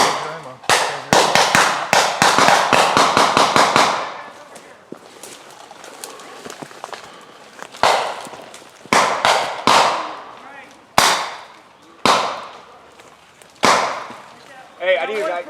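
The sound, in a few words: gunshots during a shooting drill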